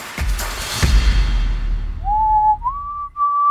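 Someone whistles a Christmas tune, a clear solo whistled melody of a few sustained, slightly rising notes that starts after a couple of soft thumps and rustles.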